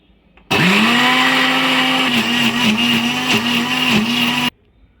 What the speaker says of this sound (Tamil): வாங்க இப்போ நம்ம இதை அரைச்சி எடுத்துக்கலாம்